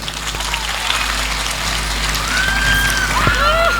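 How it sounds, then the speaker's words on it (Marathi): Audience at a Marathi home game show clapping for a couple, a steady patter of applause under loud background hiss, with a few brief whistle-like tones. "पब्लिकच्या डिमांड वरती आपण घेऊयात यांच्यासाठी टाळ्यांचा आवाज"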